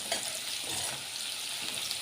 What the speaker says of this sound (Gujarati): લીલી ડુંગળીનો વઘાર કરીએ આપણે